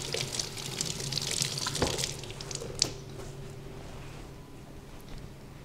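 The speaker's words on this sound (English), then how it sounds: "Give them a quick rinse." Tap water runs over hard-boiled eggs in a sink, a steady close splashing rinse with a few squishy handling sounds and a small knock, fading quieter toward the end.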